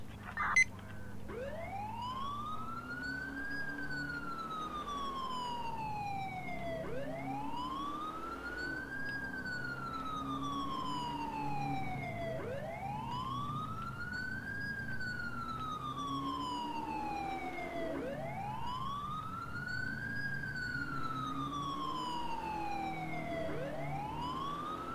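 Police car siren in the LCPDFR video game, responding code 3 to a shots-fired call, wailing in steady rising and falling sweeps that repeat about every five or six seconds, loud and continuous with no talk over it.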